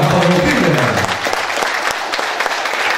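Spectators at a Ronda Crioula gaucho festival at CTG Filastro Brum break into loud, dense applause, a continuous wash of clapping with a voice briefly audible at the start.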